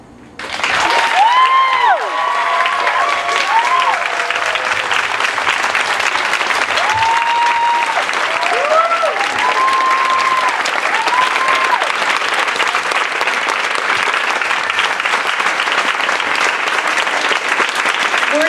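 Audience applause after a motivational speech at an evening World Cafe event: a dense, loud, steady wall of clapping that swells in and holds for the full length, with a few high whistles rising over it near the start.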